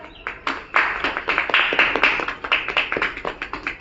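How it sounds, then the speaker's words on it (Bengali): Children clap their hands together in a quick, uneven burst at an Independence Day gathering, a run of close, sharp claps that settles into a loose rhythm. "হাততালি দাও।"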